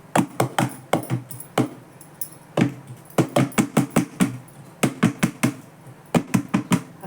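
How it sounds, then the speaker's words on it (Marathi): A tin of khaman dhokla batter tapped repeatedly on a surface to settle it, producing sharp, close knocks in quick irregular bursts with short pauses between groups. "असं जरा थोडंसं टॅप करून घ्यायचं, म्हणजे हे मिश्रण एकसारखं बसतं डब्यामध्ये."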